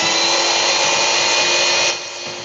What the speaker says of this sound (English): basically I'm just going to whisk it together